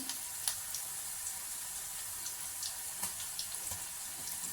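Onion pakoda batter frying in hot oil, a faint, even hiss with scattered soft pops and crackles throughout, heard alone without any talking.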